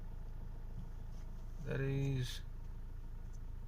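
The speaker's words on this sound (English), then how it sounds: "As you see, this is the engine noise." A 2019 Tata Harrier SUV's engine idles in a low, steady hum that holds evenly throughout, with a brief spoken word rising over it midway.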